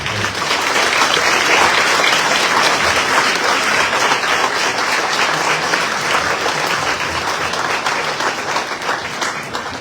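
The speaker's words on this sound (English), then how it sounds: "you guys can give them applause for their participation" Steady, sustained applause from a large audience at a candidate forum and mayoral debate, a dense wash of clapping that holds at full strength for several seconds.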